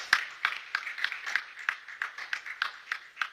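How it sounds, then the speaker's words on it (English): Applause at a defence chief's media engagement, a faint, sparse clapping of about a dozen distinct, evenly paced claps, thin and distant in a quiet room. "please, let's once again give him another resounding round of applause"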